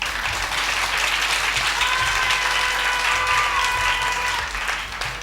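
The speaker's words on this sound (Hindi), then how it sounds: "आप लोग तालियां बजाएं" Studio audience at a televised Ramadan iftar show breaks into sustained applause, a thick continuous roar of clapping that holds for several seconds before easing slightly, with faint crowd voices beneath.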